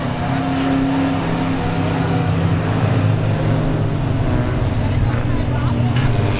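Pure stock race cars roar around the Claremont Motorsports Park oval during a heat race, a steady dense engine drone from a pack of cars sustained throughout at close range.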